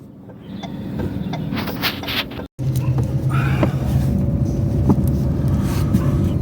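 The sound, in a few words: car being turned during a driving lesson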